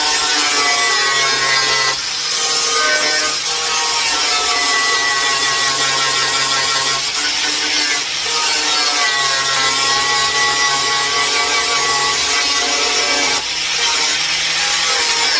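Flap disc grinding welds on the sunroof of a 1991 Honda CRX Si, a loud continuous abrasive whir in long passes broken by brief pauses, close and steady.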